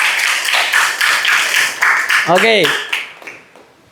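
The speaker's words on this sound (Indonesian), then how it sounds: "tepuk tangan untuk kita semua" Students and teacher in a classroom clap together at the close of a lesson, a run of quick claps mixed under a speaking voice that carries over them and then fades out.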